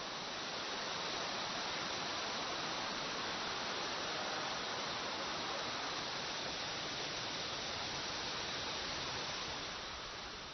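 Jiuzhaigou waterfall, the widest waterfall in China, in winter, rushing as a loud, steady broadband roar of falling water that holds constant without pause.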